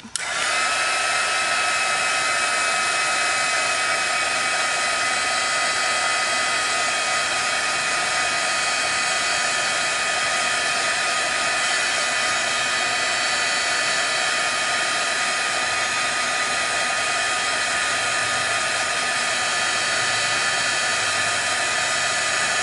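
A hair dryer drying paint blows with a loud, constant whine and rush of air that stays steady and close from start to finish, with no one talking.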